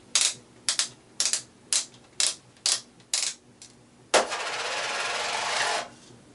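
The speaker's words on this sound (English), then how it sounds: "you can just take and actually take the barrel out of the shotgun" Metallic clacks and rattles of a 12-inch short barrel shotgun being handled to pull the barrel off, about eight sharp separate clicks followed by a longer sliding scrape, close and loud with no talk.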